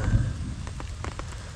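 Rain falls steadily beside a river during a fishing trip, a continuous hiss of drops with a low rumbling undertone, fairly close and with no talk.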